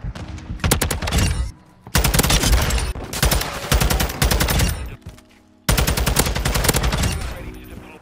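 Taq-56 rifle fire in a Call of Duty Search and Destroy match: loud, rapid automatic bursts separated by short pauses, with a dense crackle of shots throughout, heard alone with no talking.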